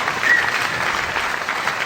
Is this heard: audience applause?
yes